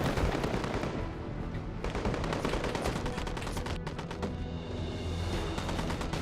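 Dense, continuous weapon fire in a shooter game, with rapid overlapping bursts and sharp cracks that stay loud and close the whole time. A rocket weapon is among the firing, though the individual rocket launch does not stand out.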